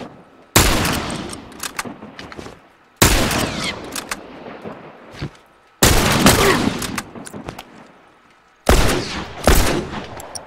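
Gunfire from a rifle in The Last of Us Factions, arriving as four loud bursts of rapid shots spaced a few seconds apart, each trailing off into a reverberant tail.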